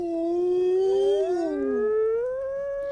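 A wolf in the video game Medieval Dynasty gives a drawn-out, wavering howl-like cry that slides up and down in pitch for about three seconds, loud and alone with no talking.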